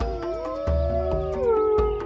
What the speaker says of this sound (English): or a wolf howls,